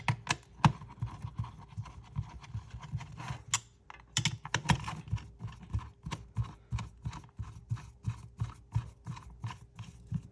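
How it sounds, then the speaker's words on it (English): Two screws are dropped in and driven to secure a Wisecube Go enclosure module, giving a close series of rapid, regular small clicks and taps with no talking. "we're going to take our 2 screws, we're going to drop them in here, and we're going to secure the module together"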